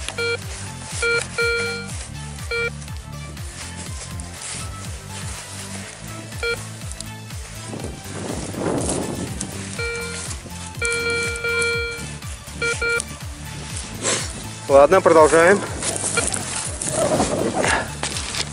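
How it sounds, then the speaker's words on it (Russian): Repeated electronic tones of a metal detector signalling a coin, pulsing beeps and warbling signals, close and fairly loud, with someone speaking briefly in Russian over them, in the centre of a village. "Итак, ребята, очередной сигнал."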